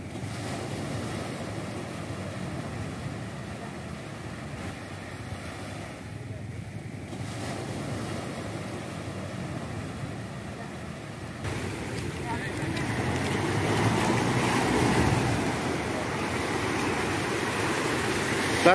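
A boat moves across open sea from Palampang Beach to Pulau Kunti, with constant wind buffeting the microphone and the wash of waves, swelling louder toward the end.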